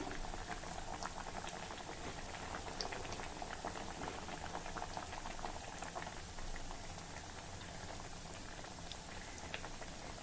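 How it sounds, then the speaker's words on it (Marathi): Steamed vadis fry in hot oil over medium heat, making a soft, even bubbling and pattering crackle that carries on steadily and fairly quietly without any voices. "तेल नीट गरम झालं की मध्यम आचेवर आपल्याला वड्या तळायच्या आहेत"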